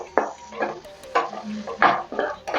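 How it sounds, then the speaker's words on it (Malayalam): Black pepper and coriander powder are sautéed in a pan for a prawn dish. Close stirring scrapes come in short repeated bursts over a soft sizzle. "കുരുമുളക് പൊടി, മല്ലിപ്പൊടി. നന്നായി വഴറ്റി കൊടുക്കുക കേട്ടോ."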